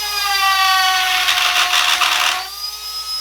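A Kutzall carving bit on a high-speed rotary power tool whines steadily, then bites into wood with a rough, fluttering grind for about a second and a half before easing back to a clean spinning whine; loud and close.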